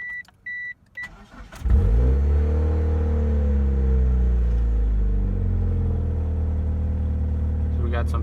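A 1995–1999 Mitsubishi Eclipse engine starts and idles smoothly after a fuel pump install, a close steady rumble following a few short beeps and a brief crank.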